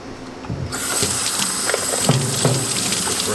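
A running tap gushes steadily and loudly as a Karcher KC5 hard floor cleaner's dirty water tank is rinsed beneath it, with no voice over the water.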